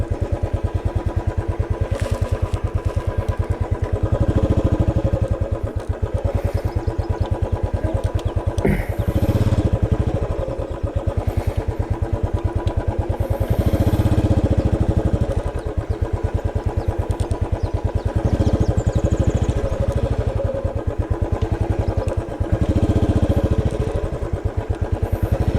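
Motorcycle engine idling and running steadily close by, with a continuous low throbbing rumble as the bike is turned around on an off-road path near a pond.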